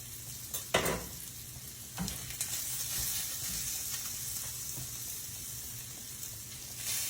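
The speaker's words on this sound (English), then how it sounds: "Just sauteing up some of those peppers and onions." Peppers and onions sauté in a pan for breakfast muffins, a soft steady sizzle close by with a few sharp utensil scrapes and stirring knocks near the start, no voices.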